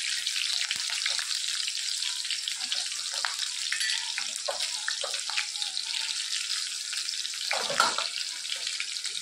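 Green chillies and curry leaves fry in a pan with a steady, close sizzle and occasional stirring, no voices present.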